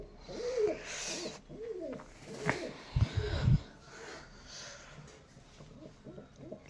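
Homer and giribaz pigeons coo softly in a loft, with low rounded calls repeating in a loose rhythm, close but faint, and a louder burst of cooing or wing rustle midway.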